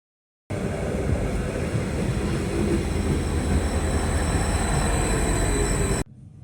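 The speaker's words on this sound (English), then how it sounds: "Let's meet our first train for today." An Arriva passenger train near Elst station sounds as a continuous, fairly loud rumble of wheels on rail, starting abruptly and holding steady until it cuts off shortly before the end.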